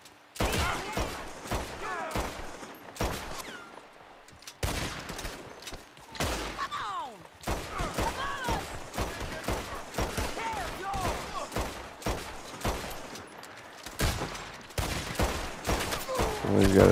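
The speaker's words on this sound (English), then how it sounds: "Somebody's got a shotgun." Repeated shotgun blasts and gunfire in Red Dead Redemption 2, a dense, irregular fusillade of sharp cracks running throughout with brief pauses, loud and close.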